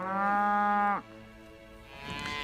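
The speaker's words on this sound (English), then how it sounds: "These are your classic longhorn cattle." Longhorn cattle on a working ranch pasture near Dodge City, a single long, loud, close moo of about a second, followed by quieter ambient noise and a faint second low call.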